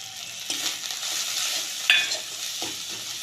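Ginger, garlic and onion cooking down with dry spices in a pan, a moderate continuous sizzle with a few sharp utensil scrapes and taps.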